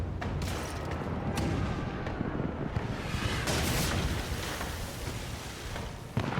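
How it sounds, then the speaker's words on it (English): Dense, continuous booming and crackling with repeated heavy blasts of ship cannon fire in Pillars of Eternity 2, rumbling through a loud naval battle scene. "Here, more cannons coming after us."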